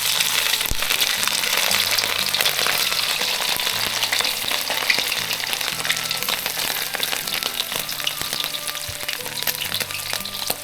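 Hot oil fries for pork rinds, giving a steady, dense, close crackling sizzle that stays even throughout, with occasional light knocks and no talking.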